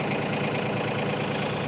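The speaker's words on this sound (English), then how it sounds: "listen to the sound of the tractor" An LS MT232H compact tractor's diesel engine idles in a close, steady, even chug with no talk over it.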